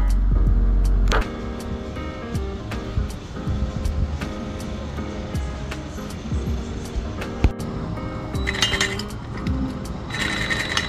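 A wrecked Subaru's engine runs with an exhaust leak at the downpipe, which is left unbolted in the middle. Sharp, irregular ticks and clinks sit over a low, steady mechanical rumble, close and moderately loud.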